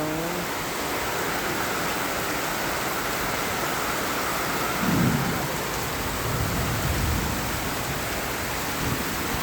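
Heavy rain pouring steadily outdoors on a street with parked vehicles, a dense even roar of rainfall with a low rumble of thunder rolling in near the middle, no voices.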